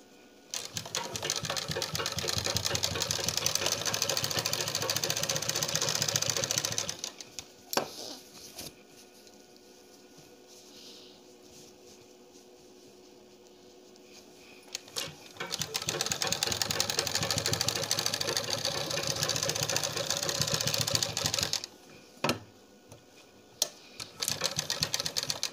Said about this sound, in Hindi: अब हम सिलाई लगाएंगे इसको ऊपर रखते हुए।